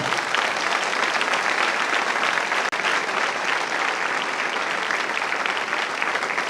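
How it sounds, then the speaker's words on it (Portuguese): Loud, dense applause from a church congregation fills the space steadily and without a break, many hands clapping at once. "Se vai aplaudir, aplauda forte."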